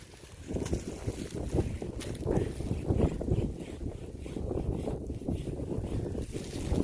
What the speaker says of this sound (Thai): อ่าวันนี้ลมแรงหน่อยครับ